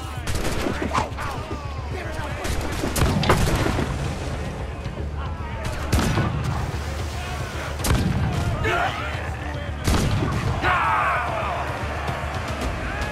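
Repeated booming cannon blasts in a dense naval battle soundscape from Assassin's Creed IV: Black Flag, several loud impacts spread across the clip with shouting voices mixed in.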